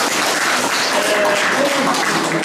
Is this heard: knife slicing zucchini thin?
no